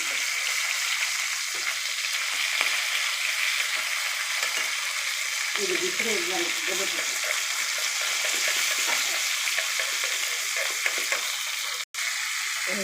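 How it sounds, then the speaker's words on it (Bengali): Rui fish frying in a pan, giving a loud, steady, close sizzle that keeps up a constant hiss throughout, with a brief break near the end and no voices. "এপাশে মাছ ভেজে নিচ্ছি"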